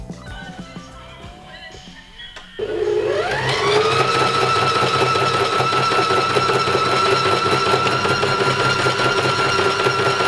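A sewing machine starts up and runs continuously at a steady, fast whirring pace, loud and close, after a few seconds of quieter rustling.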